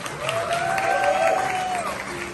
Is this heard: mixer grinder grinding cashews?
no